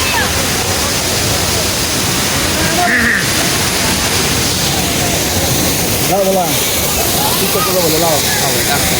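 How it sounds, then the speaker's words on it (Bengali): Rushing mountain waterfall at Rupali Jhorna in Bandarban, a loud, dense, continuous roar of falling water, with voices talking close by over it. "আমরা এখন ঝর্ণাতে চলে এসেছি।"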